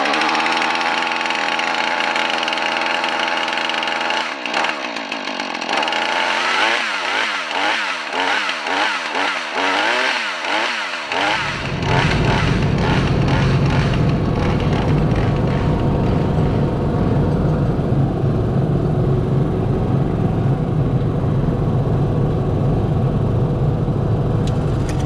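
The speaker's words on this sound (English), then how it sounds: "I am going to do the initial first start and get the 440 warmed up" Husqvarna 440 chainsaw pulled over several times with sputtering tries, then catching and running steadily loud at a fast idle for warm-up, close by with no talking.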